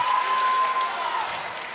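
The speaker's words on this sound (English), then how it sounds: "this crowd is absolutely electric" A crowd at a CageZilla cage fight applauds and cheers loudly, a dense, sustained roar with a steady whistle running through it, easing slightly toward the end.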